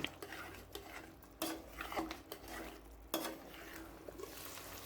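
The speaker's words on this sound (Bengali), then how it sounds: "এখন আমি কাঁঠালের বিচি সহ গোস্তটা কিছুটা সময় কষিয়ে নেব।" Beef with jackfruit seeds is stirred and sautéed in a pot, giving quiet, intermittent scraping and clinking of a spoon against metal at a few-second rhythm over a faint sizzle, with no talk.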